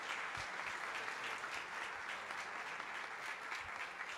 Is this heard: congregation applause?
yes